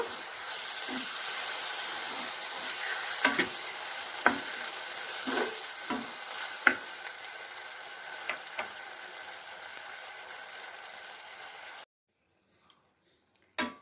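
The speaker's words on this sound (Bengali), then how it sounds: "টমেটো সস, মশলাটা মাখিয়ে নেব।" Egg chilli with tomato sauce and spices being stirred in a sizzling pan, steady frying hiss with repeated spoon scrapes and knocks against the metal, then the sizzle cuts off abruptly near the end.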